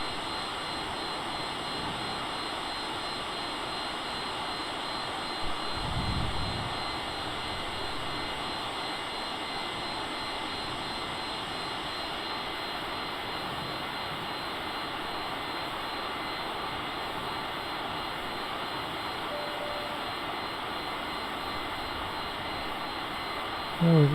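A Cessna CJ4 business jet cruises between Prescott and Phoenix, Arizona, its engines producing a steady, loud broadband roar heard from inside the cabin, with a brief thump partway through and a short click near the end.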